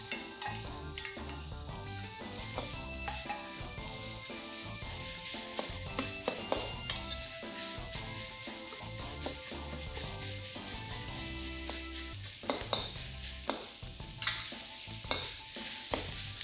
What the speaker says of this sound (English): Stir fry the pork until it's no longer pink.